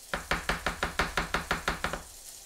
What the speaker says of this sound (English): So go ahead and get our garlic minced up